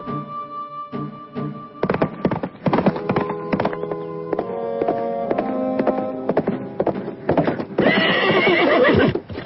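A horse whinnies loudly and repeatedly while its hooves clip-clop in a steady, close rhythm, with a long high-pitched neigh near the end and no speech.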